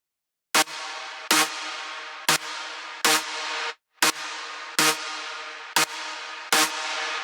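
Nexus synth preset Big EDM Lead 1, a bright buzzy lead playing eight sharp-attacked notes in a steady rhythm, each held briefly then cut, loud and alone.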